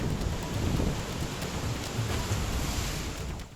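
Floodwater after a cloudburst in Kargil roars continuously through the area, a dense, loud rushing wash that holds steady for the whole stretch with no voices.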